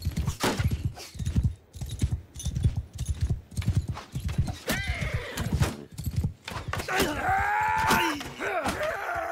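Horse hooves clip-clop in Mount & Blade II: Bannerlord, a steady loud rhythm of near hoofbeats, followed by a horse's whinny and snorting toward the end.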